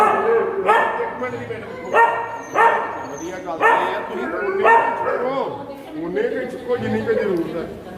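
Many dogs crowded together bark close by in repeated loud bursts, roughly every second, mixed with yips and whimpers.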